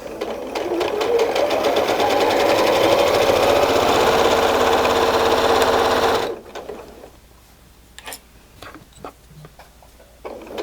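A sewing machine stitches a loop on a handmade baby carrier, running fast in a loud rapid rattle for about six seconds before stopping, followed by quiet handling clicks and fabric rustles.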